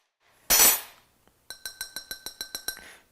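A spice-rimmed cocktail glass for a Caesar cocktail rapped against a table, starting with one loud thud, then a quick regular run of about nine bright, ringing glass knocks, close and with no talking.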